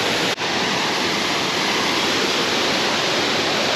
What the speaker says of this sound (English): it's a little bit cool at the moment with all that new water flowing